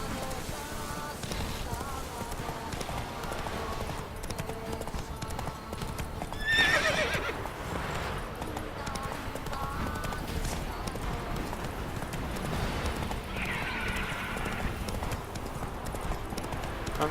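A horse gallops in the Witcher 3 video game, giving a steady, close clip-clop of hooves with a brief whinny partway through, set against ongoing game ambience and occasional talk.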